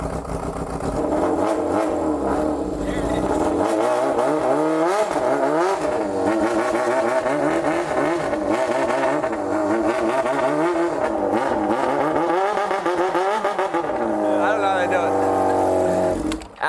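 An old Japanese motorcycle engine, pulled from a shipping container from Japan, starts and runs on full choke, a loud raw buzzing idle with revs rising and falling, under speech.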